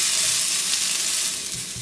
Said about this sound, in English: Once you hear that sizzling sound as the scallops contact the bottom of that hot pan, you know you are in good shape.